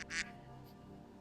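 A duck lets out one short, bright quack at the start, then a low hum of room background takes over.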